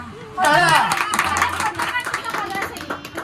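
Guests clapping at a wedding reception, a burst of hand claps starting abruptly and running under overlapping chatter and voices of a close indoor crowd.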